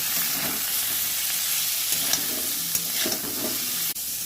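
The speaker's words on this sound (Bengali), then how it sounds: "আমি কচুগুলো দিয়ে দেবো আমি হলুদ দিয়ে দেবো আর লবণ দিয়ে দেবো এটাকে কষিয়ে নেব একটু" Taro pieces with turmeric and salt sautéing in a pan, heard as a loud, steady close sizzle with occasional scrapes and knocks of a spatula, and a sharp clatter near the end.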